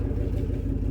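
An old white pickup truck's engine rumbles steadily from inside the cab, a low continuous drone with no talking.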